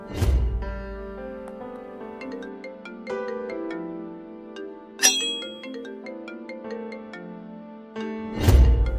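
A phone's melodic ringtone plays a repeating chime-like tune, clear and close, with a couple of sharp clicks or bumps interrupting it and no talking over it.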